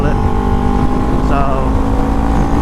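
Kawasaki Ninja 400 parallel-twin sport bike engine idling and blipping, a steady loud drone with a rev rise midway, with a voice present in the background.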